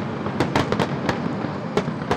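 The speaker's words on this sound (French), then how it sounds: "lever les yeux pour admirer dans le ciel d'encre les explosions de couleurs du feu d'artifice" Bastille Day fireworks over Marseille burst in a quick irregular series of sharp cracks and booms, some close together, over a constant crowd murmur.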